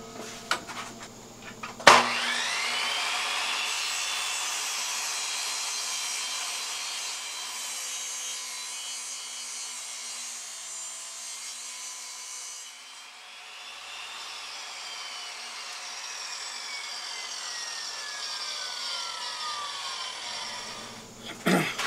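A table saw cuts a small bevel along a plywood board, a bright steady whine and rasp that holds for nearly twenty seconds between a sharp knock at the start and another at the end, fading slightly midway.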